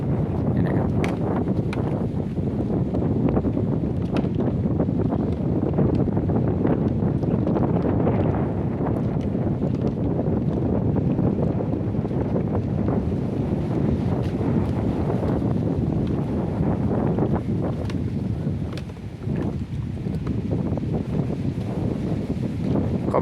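Steady wind buffets the microphone on a floating pontoon bridge at Pak Nam Rayong, a continuous broadband roar with gusty swells and faint water movement underneath, no speech.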